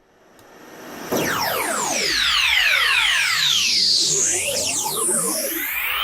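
A reversed Serum synth preset, reworked into a riser for a hardwave track in FL Studio, swells up from quiet, then surges into loud, noisy, phasing sweeps that crisscross and build steadily to the end.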